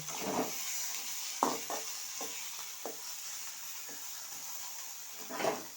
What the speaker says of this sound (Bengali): এখন আমি আলুটা ঢেলে দেব